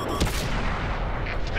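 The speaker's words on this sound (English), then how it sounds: "Try to get one more shot into him." A single heavy tank cannon shot in World of Tanks, a sharp booming blast near the start followed by a rumbling tail of battle noise.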